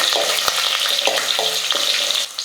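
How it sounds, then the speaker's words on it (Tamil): Dried red chilies fry in hot oil for sambar, giving a steady, close crackling sizzle with a few sharp clicks of stirring throughout. "மிளகா நல்லா வறுப்பட்டுடுச்சு"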